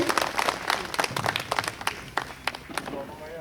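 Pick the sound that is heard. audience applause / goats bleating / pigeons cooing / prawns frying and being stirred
audience applause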